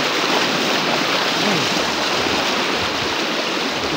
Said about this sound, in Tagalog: Mahirap yan, yung labanan yung agos.